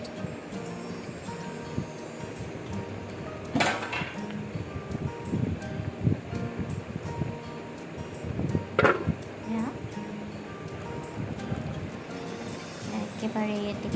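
A lid is put on a pot of pabda fish cooking with mustard, giving a couple of sharp, close clinks a few seconds apart amid light handling sounds and a talking voice.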